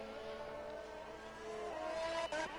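Race cars on a track in a racing video game, engines droning steadily at a distance, with one car rising in pitch as it accelerates near the end, fairly quiet overall.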